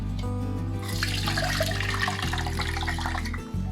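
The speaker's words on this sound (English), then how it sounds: "this water I can just strain like this" Nutrient-rich water used as plant fertilizer for Golden Pothos is strained, a loud, continuous pouring and splashing stream that runs steadily for a few seconds over a low hum.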